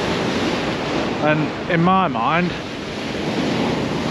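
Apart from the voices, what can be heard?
onshore wind and waves at the beach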